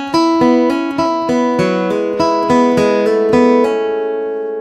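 Acoustic guitar picks out the fiddle tune Horseshoe Bend, with two learned sections joined in one continuous passage. Bright plucked notes come in a steady, even rhythm, close and clear with no voice, then ring out and fade at the end.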